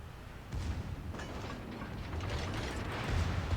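Enemy ship secondary guns firing in the naval combat game World of Warships, a continuous rumbling barrage of low booms that swells louder toward the end, with no talking.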